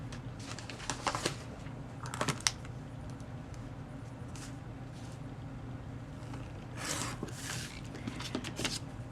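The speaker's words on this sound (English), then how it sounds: "now we're going to cut off where the triangle starts" Scissors cutting off an envelope flap where the triangle starts, with scattered crisp paper snips and rustles, close and fairly quiet, over a low steady hum.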